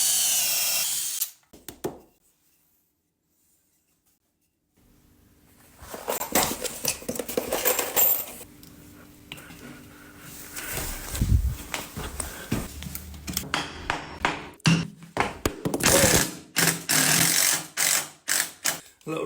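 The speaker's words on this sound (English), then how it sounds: "I'm just going to get the pocket holes in" Cordless drill whirring in repeated close bursts while boring pocket holes and driving screws into wood during a kitchen install, with a short silent gap early on and ratcheting clicks between runs.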